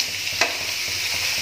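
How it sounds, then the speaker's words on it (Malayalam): Washed rice stirred into boiling water in a pan for biryani, giving a continuous bubbling hiss with a soft knock of the spoon and faint rhythmic scraping, close and steady. "അതിലേക്ക് നമ്മൾ കഴുകി വെച്ച അരി ഇട്ട് കൊടുക്കുകയാണ്. നന്നായി ഒന്ന് ഇളക്കി"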